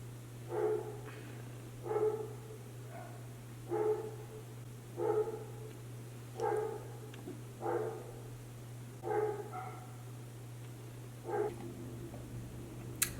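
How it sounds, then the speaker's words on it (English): Dogs bark in regular bursts roughly every one to two seconds, somewhat distant, over a steady low electrical hum. "This is me waiting for the dogs to stop barking so I can film this video."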